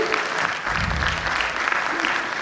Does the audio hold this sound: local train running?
no